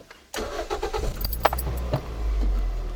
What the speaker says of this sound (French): Je vais redémarrer le moteur.